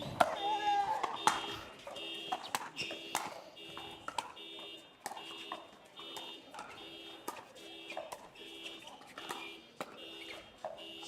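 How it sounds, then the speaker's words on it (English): A car alarm sounds near a pro mixed doubles pickleball championship court in Brisbane, repeating electronic pulses in a steady cycle that carry on for the full stretch at moderate distance beneath crowd and court noise. "with a car alarm going off."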